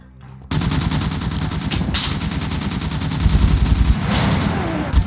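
Dense, rapid gunfire from the survival game SCUM, loud and close, a near-continuous stutter of automatic shots with brief pauses, a voice talking faintly underneath.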